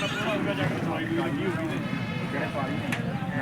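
A horse whinnies with a wavering, rising and falling call at an animal market, while people talk nearby and hooves shuffle in the background.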